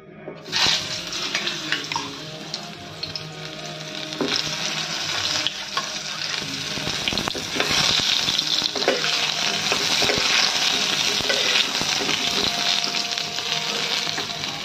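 Pointed gourd fries in a little hot oil in a wok, giving a loud, steady sizzle that swells after a sharp start and holds strong to the end, with no talking.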